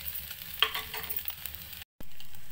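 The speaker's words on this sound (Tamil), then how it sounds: "அப்படியே வேகட்டும். அப்பப்போ கொஞ்சம் மிக்ஸ் பண்ணி விட்டுக்கிட்டே இருங்க." Taro root frying in a pan, a soft steady sizzle with a few light clinks of stirring, close and quiet, cut by a short dropout before a flat hiss resumes.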